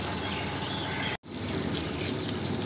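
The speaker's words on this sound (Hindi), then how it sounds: "अभी इसके ऊपर भी पानी डाल देता हूँ थोड़ा सा" Water gushing steadily over a Maruti 800 being washed with detergent, a loud continuous splash that cuts out for a moment partway through and then resumes.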